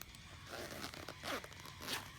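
A zipper on a baby carrier pouch is pulled open or shut in a few quick rasping strokes, close and fairly soft, with no talking.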